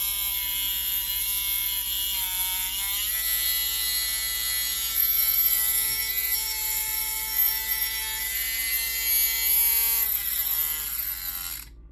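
A Harley-Davidson Street Glide part rubbing on the inside as it spins gives a steady, close, high-pitched mechanical whine with a grinding edge, running throughout and dipping in pitch near the end as it winds down.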